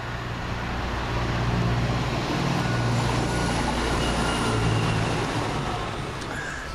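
A Chiltern Railways passenger train, unit 168122, running the 1H20 from Birmingham Moor Street to London Marylebone, rumbles past nearby with a continuous low engine drone and wheel noise, steady and loud throughout without talk.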